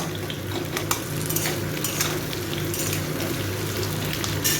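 Potatoes fry lightly in a pan for chicken rice, a continuous low sizzle under repeated stirring scrapes and soft metal taps, close and steady throughout.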